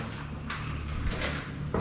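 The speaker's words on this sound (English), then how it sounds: "a nearby door slowly opening and closing on its own" A door in an abandoned building creaks open and shuts on its own, a few faint scraping and knocking sounds that echo through the empty space, with a louder thud near the end.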